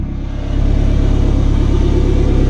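A car being driven on a test drive after a rear suspension upgrade, a loud steady low engine rumble and road drone heard from inside, rising slightly after the first half second.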